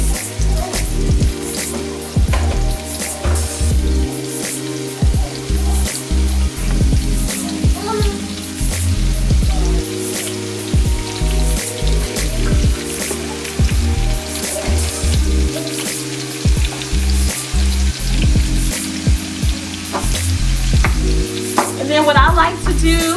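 Bell peppers and portobello mushrooms frying in oil in a skillet, a loud sizzle with stirring scrapes throughout under background music.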